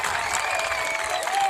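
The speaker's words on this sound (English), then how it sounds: "Obviously a big roar from the North Polk crowd" A large high school girls' soccer crowd roars and cheers steadily at a state quarterfinal match, a dense, loud wash of voices and clapping sustained throughout.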